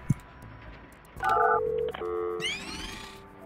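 In the building-management game Project Highrise, a sharp click is followed by a run of clean electronic phone tones, stepping through several pitches before a brighter warbling ring takes over near the end.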